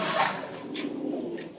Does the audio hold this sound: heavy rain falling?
no